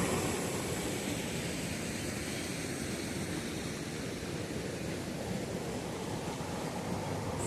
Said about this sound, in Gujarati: ધોધ છે.